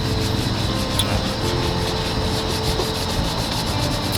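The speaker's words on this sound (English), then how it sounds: "So I grabbed the super ugly sponge, the ugliest sponge that you could find, the ugly barnacle, and just start scrubbing." A very ugly sponge scrubs stuck-on food from a pan while cooking outdoors on a dam, a steady, close, rhythmic rubbing and scraping that runs without a break and without talk.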